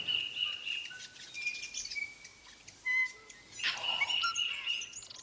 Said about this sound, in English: I can hear a piwaiwaka. Oh, that's a kōtare.